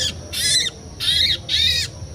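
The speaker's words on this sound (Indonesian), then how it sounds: "burung gladek watu, burung gladek watu ya" A gladek watu bird gives three loud, harsh, high-pitched squawking calls in a steady rhythm, close by, being released outdoors.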